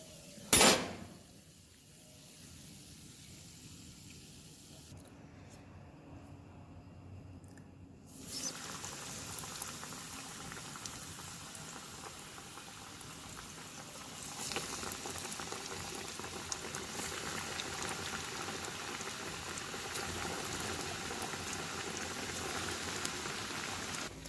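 Potato slice sandwiches frying in hot oil give a steady, crackling, rain-like sizzle with bubbling. A brief clatter comes early, then a dip, and the sizzle grows fuller and louder after about eight seconds. Nobody speaks.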